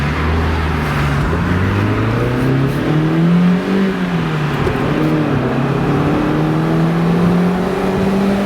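A Mazda MX-5 Miata drives in traffic, its engine note close and steady, climbing and easing as the revs change, with no talking.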